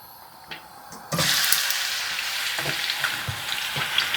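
Onions go into hot oil in a pan for a curry, a faint crackle jumping into a loud, close, sustained sizzle with a few clinks and stirring knocks.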